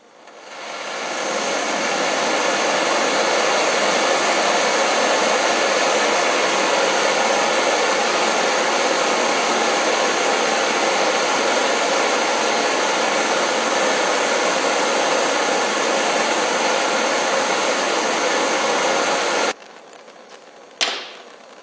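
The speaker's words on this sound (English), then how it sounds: "Here it is assembled with the longer, newer tube, and it burns much better." A forge burner fitted with a longer, newer tube roars steadily and loudly for about twenty seconds, then cuts off abruptly, followed by a brief click in the near silence.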